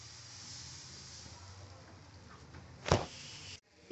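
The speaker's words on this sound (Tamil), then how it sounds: "கல் நல்லா காஞ்சிடணும். ஊற்றலாம் நம்ம தோசையை." Jaggery dosa batter poured onto a hot griddle gives a steady soft hiss, then a louder sizzling burst before a brief drop and a return.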